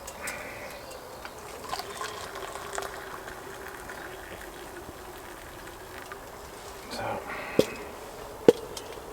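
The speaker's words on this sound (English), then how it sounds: "pouring the Kelly kettle is a two-hander job" Hot water poured from a Kelly kettle into a cup outdoors, a faint soft trickle and gurgle lasting several seconds, with a couple of sharp clinks near the end.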